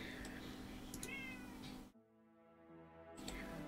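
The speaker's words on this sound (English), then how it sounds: "Cat meowing in the background." A house cat meows faintly in the background of a room while someone plays a strategy game, with repeated quiet mews, then a brief drop to near silence before the room noise returns.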